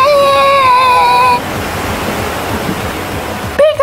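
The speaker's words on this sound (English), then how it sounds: "Squirtle, use Water Blast." Squirtle's Water Blast attack effect: a short tonal cry, then a loud rushing, hissing gush of water that runs steadily for a couple of seconds before cutting off.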